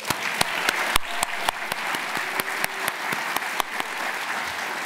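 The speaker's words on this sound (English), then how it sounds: "One last round of applause for the award winners." Audience at the 2022 GSA Design Awards ceremony applauds the award winners, steady dense clapping with distinct close hand claps punctuating it throughout.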